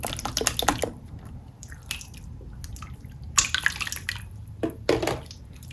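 Wet, squishy clicks and pops from cheap slime being stretched and squeezed by hand out of its container, close and irregular with sticky crackles, no talking.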